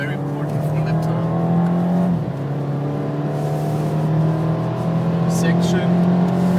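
A race car on a hot lap of the Nordschleife drones steadily from inside the cabin, its engine note dipping briefly then climbing again as power comes back on, while someone talks over it throughout.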